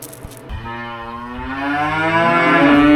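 Fat cattle bellow in one long, loud, rising moo at feeding time, while whole corn is pailed out in front of them, close and alone.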